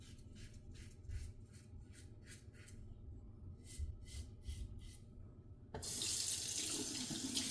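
A razor is rinsed under a running tap, water splashing in pulsing bursts for several seconds before the stream opens into a steady, louder rush of flowing water close by.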